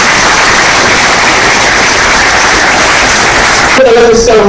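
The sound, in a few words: loud applause welcoming the director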